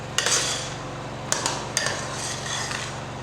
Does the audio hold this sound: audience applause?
no